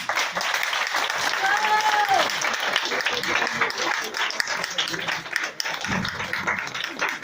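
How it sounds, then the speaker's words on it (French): Audience applause at a campground hypnosis show in the Vendée, a dense outdoor burst of clapping with crowd murmur and a voice briefly over it, sustained throughout. "Je pense qu'on peut les applaudir."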